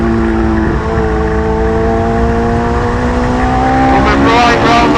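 A Hayabusa-powered Westfield sports car running flat out on a track, its high-revving motorcycle engine screaming loudly and steadily from inside the car, pitch climbing slightly with wind roar throughout.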